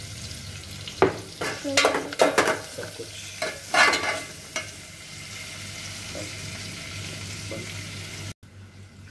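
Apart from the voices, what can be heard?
cumin and ginger-garlic paste frying in pan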